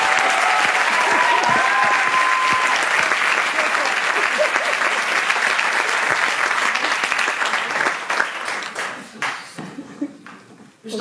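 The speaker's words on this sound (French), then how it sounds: "Vous applaudissez bien fort." An audience at a literary event applauds loudly and steadily, the clapping thinning out toward the end while a voice speaks over it.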